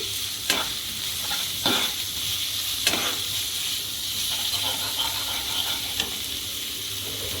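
Salted prawns are stirred in a frying pan: a continuous close sizzle with regular scraping strokes of the spatula every second or so, and no voices.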